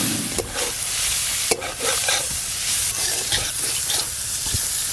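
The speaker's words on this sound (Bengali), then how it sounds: "চিংড়ি মাছগুলো একটু হালকা করে ভেজে নেব।" Prawns frying in hot mustard oil with turmeric and salt, a loud continuous sizzle broken by repeated stirring scrapes and clatters of a utensil against the pan, close up with no speech.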